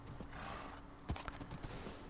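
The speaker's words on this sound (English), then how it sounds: "Definitely the best out of all the horses I've tried." A brown horse in Minecraft clip-clops along and gives a short whinny, close and moderately loud, with light hoof thuds and no talking.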